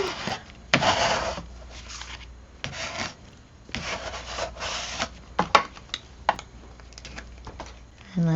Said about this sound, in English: Burnishing her down.